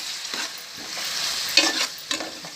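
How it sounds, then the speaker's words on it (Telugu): Ginger paste fries in oil for a village-style mutton curry, giving a soft, steady sizzle with occasional stirring scrapes, quiet and close with no talking. "అల్లం పేస్ట్ కూడా పచ్చి వాసన పోయేట్టుగా వేసుకోవాలి"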